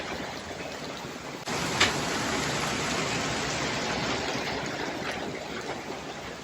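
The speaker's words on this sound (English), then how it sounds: "Left New York in the cold, came down to Florida, and we got a monsoon." Heavy monsoon downpour in Florida, a dense steady roar of rain pounding surfaces and water running, close and continuous with a slight surge after the first seconds.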